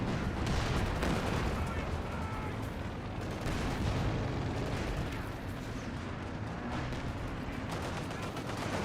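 Dense, continuous battlefield gunfire and artillery-like bursts from the WWII strategy game Company of Heroes 2, loud and sustained throughout, with a commentator's voice running over the combat noise.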